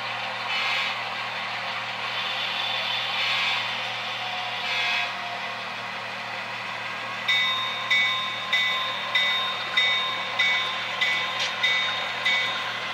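A model railroad train runs on a layout, its wheels clicking in a regular rhythm over rail joints against a steady low hum, faint and close with no voices.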